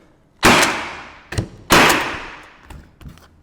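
A Milwaukee M18 Fuel cordless coil roofing nailer in single fire mode drives nails in two loud, sharp bangs, each followed by a decaying hiss, with fainter clicks and knocks between them.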